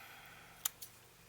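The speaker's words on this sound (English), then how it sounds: "Let me use my bigger scissors." Two quick crisp snips of scissors cutting through paper, close by in a quiet room, the first sharper than the second.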